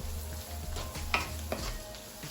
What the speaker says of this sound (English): So now we're gonna burn the curry